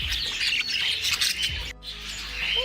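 Many small birds chirp, squawk and tweet together in a busy bird store, with a cockatiel close by among the budgies and canaries; dense, bright calls run steadily throughout with no pauses.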